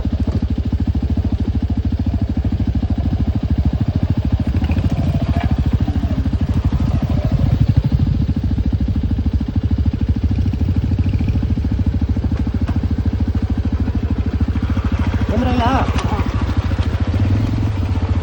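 Hero Splendor motorcycle on an off-road ride, its engine droning steadily and close throughout with a constant mid-pitched hum, occasional clatter and rattles from rough terrain, and brief faint voices partway through.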